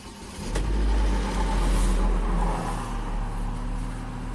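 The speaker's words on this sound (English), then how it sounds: "turn the key on, start up the car" A Chevrolet Captiva's direct-injection engine, swapped and with a fuel pressure fault, turns over with a brief click and catches, rising to a steady rumble, then settles into an even idle.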